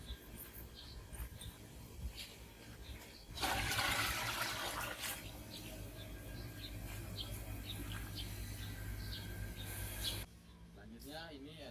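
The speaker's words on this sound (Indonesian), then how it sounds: "Aduk, kita tumpahkan ke dalam kolam ikan" A mixture is poured into a fish pond at a household tilapia farm, making a steady splashing water rush that starts abruptly and runs for several seconds before cutting off, with outdoor background noise throughout.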